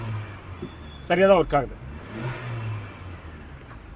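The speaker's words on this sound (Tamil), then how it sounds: "ஆக்சிலேட்டர் பெடல் சென்சார்ஸை இப்போ நான் ஆக்சிலேட்டர் கொடுக்குறேன்" Honda Amaze car engine revving as the accelerator pedal is pressed during fault diagnosis for late starting: a short rising rev over a steady idle, with someone talking over it.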